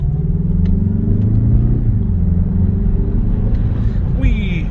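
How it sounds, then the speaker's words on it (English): A 2023 Mazda 3 2.5 Turbo AWD accelerating, a loud steady cabin drone of engine and road rumble with the pitch rising gradually, heard from inside the car. "the way this car accelerates, you definitely feel turbo lag"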